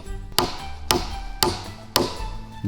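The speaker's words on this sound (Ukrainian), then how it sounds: "Слідом на ці колоди кладемо ще одну у ролі перекладини і прибиваємо її цвяхами." Nails are hammered into a log crossbeam laid across upright logs while building a hut beside a pond: four sharp, evenly spaced blows ring out close by, each with a short resonant decay.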